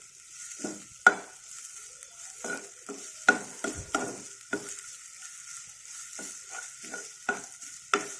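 Grated amla and ginger frying in a pan, a soft steady sizzle broken by repeated scraping stir strokes and a few sharp clinks of the spatula against the pan, close and clear with no talking.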